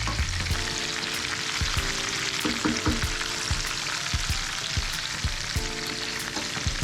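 Sliced onions frying in two tablespoons of oil with a pinch of salt, making a continuous close crackling sizzle with repeated scraping stirs and light utensil taps throughout, and no voices.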